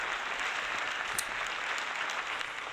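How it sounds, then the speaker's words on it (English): Steady, dense applause from a live stream audience during a retro gaming bar trivia show, a broad continuous wash of many hands clapping at moderate level for the whole stretch. "Give yourselves a round of applause."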